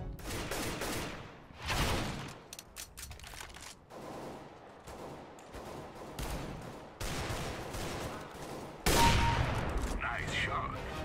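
Gunfire from CS:GO rings out in repeated bursts of sharp shots with loud rifle cracks, broken up by quieter gaps, mixed with game sounds and some speech.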